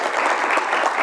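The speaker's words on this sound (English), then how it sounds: "let's have a round of thunderous applause for all the speakers" A seminar audience at a free speech event gives the speakers thunderous applause, a dense, even wash of clapping from a large crowd with no breaks.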